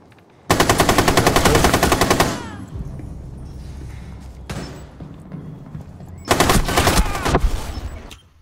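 Light machine gun in Rainbow Six Siege fires two loud sustained automatic bursts, the first about two seconds long and a second one near the end, with a single sharp shot in between over a low background.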